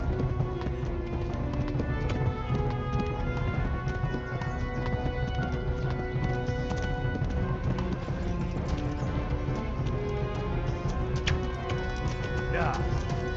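A horse gallops in the video game Kingdom Come: Deliverance, its hoofbeats a steady, continuous clip-clop close up throughout, with other game sounds underneath.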